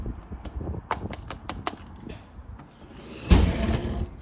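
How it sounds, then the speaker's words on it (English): A short run of sharp mechanical clicks and clacks, then a louder scraping creak from a grinding door hinge near the end, close by with no talking. "Looks like there's grinding on the hinge"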